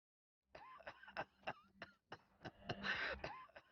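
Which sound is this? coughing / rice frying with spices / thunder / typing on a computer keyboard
coughing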